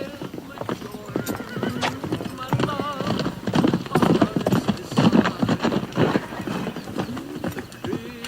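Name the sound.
horse hooves clip-clopping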